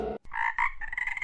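Cartoon frogs croak in a short burst of repeated rasping calls, loud and close. A brief low thud and a moment of near silence come before the croaking.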